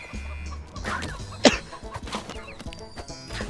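Chickens cluck in the video game Ultimate Chicken Horse, short bursts of clucking and squawking over busy game sounds, with one sharp louder cry in the middle.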